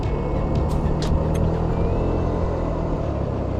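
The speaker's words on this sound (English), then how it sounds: "all the hustle and bustle of traffic" Steady road noise from a ride along a twisty road south of downtown Phoenix, a loud continuous engine rumble with brief wind gusts and a passing vehicle, no voices.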